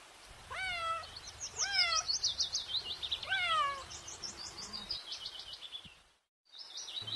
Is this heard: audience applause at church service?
no